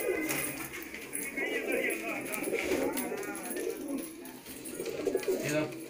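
Teddy pigeons, a bred fancy variety, coo in soft, repeated throaty bursts close by, with a voice talking over them and a faint extra bird call in the background.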